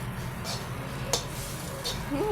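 Curry leaves dropped into a hot pan, giving a steady hiss of sizzling oil with a few light clinks, while someone talks over it.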